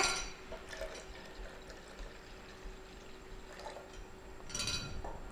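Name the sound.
pouring water into blender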